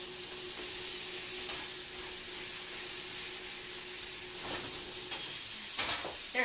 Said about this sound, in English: In with the onions and the mushrooms.